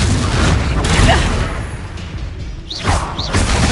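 A Confringo blasting spell in Hogwarts Legacy explodes in a rumbling boom with whooshing bursts and thuds amid busy game combat, loud and dense.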